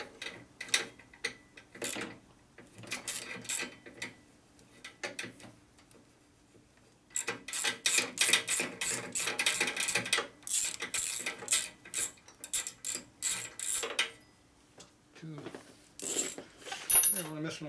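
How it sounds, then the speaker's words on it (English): Ratchet wrench turning bolts on a 2001 Gilroy Indian motorcycle during a rebuild, heard as quick bursts of close metallic clicking separated by pauses and a few clanks of tools. "Just need a ratchet right in there and get right to it."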